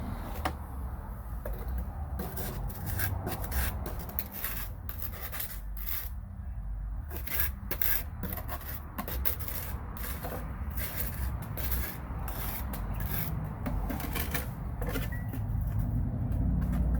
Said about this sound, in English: There's gotta be a better way to scrape this.